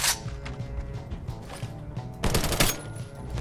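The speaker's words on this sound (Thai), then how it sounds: "โดนผู้เล่นยิง" Rapid automatic gunfire from another player in the video game Lost Light rattles in two loud bursts, one at the start and a longer, denser volley near the end, with no talking.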